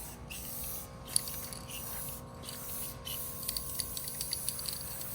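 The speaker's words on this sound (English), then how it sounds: "really mist it on there, and just do a lot of little coats" An aerosol spray can mists camouflage paint onto a shotgun, a Maverick 88 or Remington 870, in short bursts with brief pauses between them, then a steadier run of light hissing, close by.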